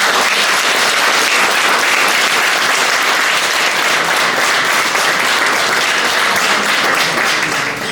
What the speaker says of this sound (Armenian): Խնդրում եմ բոլորս ներկաներս բարձր ծափարենք ընկերներ